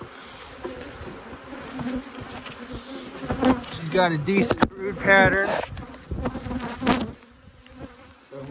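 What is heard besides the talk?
honey bees buzzing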